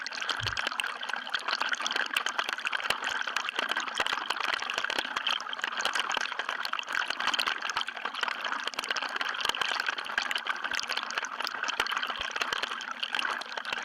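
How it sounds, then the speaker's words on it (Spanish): The Yura river in Arequipa, Peru, rushes and flows in a steady, dense wash of water that stays constant and fairly loud throughout, with no voices over it. "de un río que se llama Yura, ¿no? Que queda en Arequipa, en Perú."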